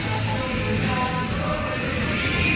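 A dense, muddy wash of a song with a hundred copies layered on top of each other, forming a loud, steady, smeared roar where no single part stands out.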